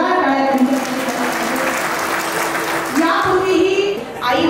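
A crowd at a kirtan in Makhmalabad applauds steadily and loudly for several seconds, a dense wash of clapping with a voice sounding over it.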